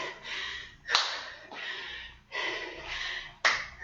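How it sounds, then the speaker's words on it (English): Sharp hand claps ring out during a squat-and-clap workout, two distinct claps a couple of seconds apart amid breathy movement and rustle, close and fairly loud. "Squat, clap, squat, clap."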